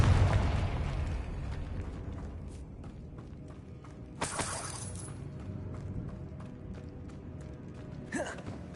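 Blasting-spell explosion in Hogwarts Legacy, a heavy rumbling boom at the start decaying into a long low roar, with two sharper crackling bursts later and creaking debris in between.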